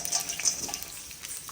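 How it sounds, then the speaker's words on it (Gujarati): Jaggery melts in about two spoons of ghee in a pan, giving a faint, soft sizzle with light scraping strokes of stirring, close and quiet with no voices. "હવે આપણે ગોળ ઉમેરી દીધો છે એમાં। તો અહીંયા આપણે ગોળને મેલ્ટ કરી દેવાનું છે"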